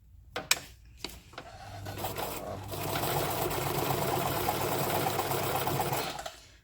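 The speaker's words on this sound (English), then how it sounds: "we're going to hold both of the threads as we start to stitch this time" A sewing machine stitches on soluble film: a few sharp clicks and taps first, then a steady close whirring run for about four seconds that slows and stops.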